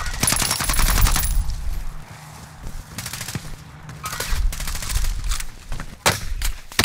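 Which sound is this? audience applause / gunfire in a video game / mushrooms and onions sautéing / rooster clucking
gunfire in a video game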